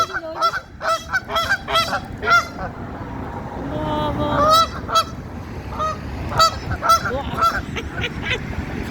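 A flock of geese in Illinois honks in loud, overlapping bursts, with stretches of repeated close calls and a denser squabbling passage midway, as one group drives off other geese.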